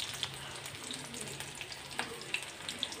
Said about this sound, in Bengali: এখন রসুন কুচি দিয়ে দিছি